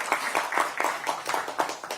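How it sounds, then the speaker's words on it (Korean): Clapping at a Korean Democratic Party campaign rally, with distinct individual claps in a quick, uneven rhythm, moderately loud and steady for the whole stretch with no voices over it. "큰 박수를 보내주시기 바랍니다"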